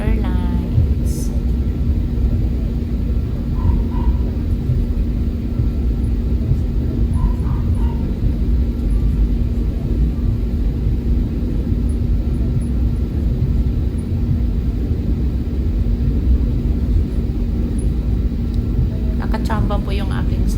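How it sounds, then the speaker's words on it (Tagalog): A Philippine Airlines airplane rolls along the runway, heard from inside the cabin as a steady, loud low rumble and engine drone with a constant hum throughout and a few faint tones on top. "Kaya medyo malayo yung takbo ng eroplano."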